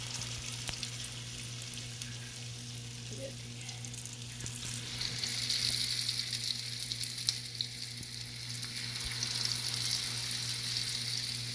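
Potato lachha bread frying in hot oil, a steady close sizzle that swells louder midway as more pieces go in, with a low hum underneath and no talk.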